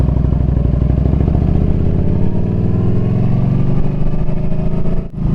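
Yamaha VStar 1300 Deluxe motorcycle engine rumbling steadily and loud while riding, a dense throbbing drone that holds for several seconds, with a slight dip and clatter near the end.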